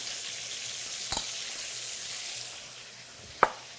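Chorizo and onions fry in a pan for arroz con pollo, giving a soft, steady sizzle with two sharp clinks of a utensil, one near the start and one near the end.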